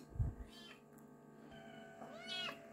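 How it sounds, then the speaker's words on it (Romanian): A cat in a home kitchen meows twice, with rising and falling tonal cries. The first meow is short and fairly faint, and a longer, clearer one follows near the end over a low background hum. "Ia uite și pisicuță frumoasă."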